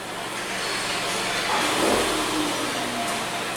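A Hyundai Tucson with a cam and crank correlation fault and improper timing runs after being shifted into drive, its engine a steady close drone that swells slightly midway.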